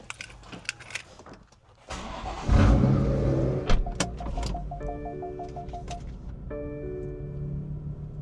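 Keys jangle before a BMW F32's engine starts and settles into a low idle, with a repeating electronic chime sounding over it as the car is pulled out.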